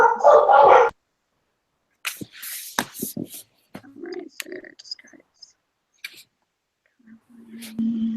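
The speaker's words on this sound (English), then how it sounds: "Sorry, I have bad dogs." Dogs bark sharply in a short loud burst at the start of a home garage meeting call, followed by intermittent clicks, typing and faint household sounds, with a brief later bark-like yelp near the end.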